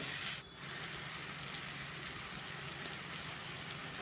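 Ground cumin, coriander, turmeric, garam masala and salt sizzle steadily in hot oil with potatoes for a spicy jackfruit curry, a close, even crackling hiss that barely changes across the stretch.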